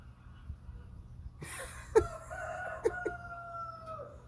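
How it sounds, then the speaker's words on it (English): A rooster crows in the middle of the night, one drawn-out, close crow with a couple of sharp knocks and rustles underneath, in an otherwise quiet setting. "Now he's crowing."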